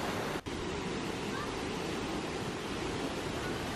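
The waterfall at Mae Yen near Pai, Thailand, a dense, steady roar of falling water close by, continuous and broadband, with a brief dropout near the start and faint voices underneath.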